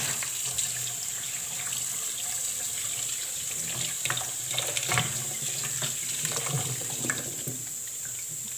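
Tap water running steadily into a sink while beetroot is rinsed of soil, with soft splashing and occasional louder sloshes as the roots are handled under the stream.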